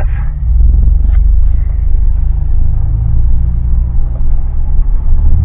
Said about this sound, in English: Okay, we're going to go on a night drive.